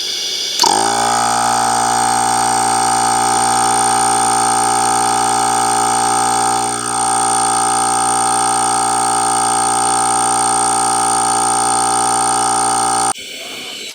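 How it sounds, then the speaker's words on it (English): An electric tire air pump suspected of being faulty switches on and runs loud and close, a steady harsh buzzing drone with a strong whine that holds for about twelve seconds before it stops. "I'm going to turn this pump on and show you what it does."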